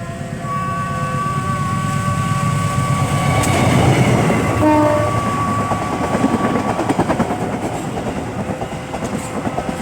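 The KA Jatiluhur passenger train passes nearby, a sustained rolling rumble with rhythmic wheel clatter and a brief horn-like tone, swelling and then easing off.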